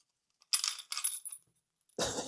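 Loose nails shaken inside the body of an HO scale Lima Class 4F model locomotive give two short bursts of bright metallic rattling. A pause follows, then a fuller clattering shake near the end, close by and with no talking.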